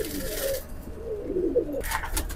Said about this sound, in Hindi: कमाल की कबूतरी है दोस्तों।